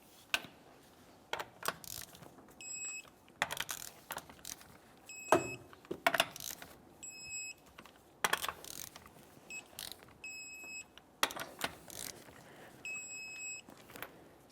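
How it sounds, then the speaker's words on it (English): A torque wrench tightens the lug nuts on a 2001-2005 Ford Explorer Sport Trac wheel in a crisscross pattern, with ratcheting clicks and metallic clacks and a short series of electronic beeps as each nut is torqued, close and quiet, with no talk. "Let's torque these in a crisscross manner."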